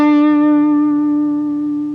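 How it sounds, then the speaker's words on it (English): A single sustained guitar note played with vibrato rings out loud and clear, holding for about two seconds and slowly fading, played alone with a slight wavering pitch. "on the guitar, if you use a little bit of vibrato when you're holding notes"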